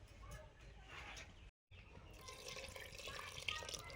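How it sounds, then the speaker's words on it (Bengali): Hot water poured into a pot of boiled rice, lentils and potatoes for khichuri, a faint continuous splashing and trickling with a brief break partway through. "গরম জল দিয়ে দিলাম।"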